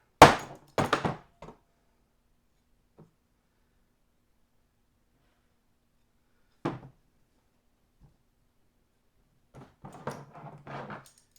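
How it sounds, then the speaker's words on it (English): A steel front beam on a 1968 VW Beetle is being clamped, giving a few sharp metallic thunks and clanks near the start, then long silence broken by one more knock and a cluster of scraping handling noises at the end. "So what I'm going to do is go ahead and clamp it."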